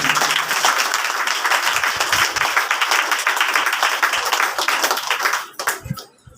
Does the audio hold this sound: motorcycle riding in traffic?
no